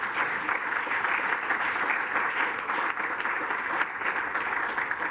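Steady applause from a conference audience at a Monaco business club gathering, dense even clapping filling the room for the whole stretch without a break.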